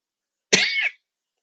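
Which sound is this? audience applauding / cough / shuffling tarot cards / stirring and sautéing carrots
cough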